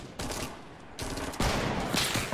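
Rapid SMG fire in the Fortnite battle royale, several loud close bursts of automatic shots following one another in quick succession, with no talk.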